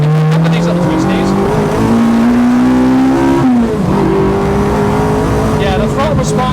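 A Honda Integra DC5 fitted with a K24 engine accelerates on twisty roads, its engine note rising loud and close through the revs, dipping at a shift, then climbing again under occasional talk from the occupants.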